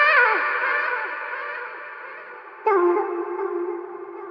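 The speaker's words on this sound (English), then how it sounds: "panning it from left to right, just add something a bit different" In a music breakdown, a synth-like tone sweeps across the stereo field from left to right. It is sustained and echoing, falls away, and then a brighter restated hit cuts back in partway through.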